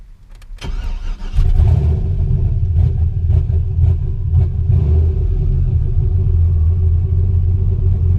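A flex fuel car's engine cranks and catches, then settles into a loud, steady low rumble heard from close by, with no voices.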